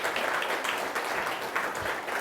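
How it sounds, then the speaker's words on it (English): A crowd applauds steadily, dense clapping from a moderately distant audience that holds an even level throughout. "Can give him a round of applause,"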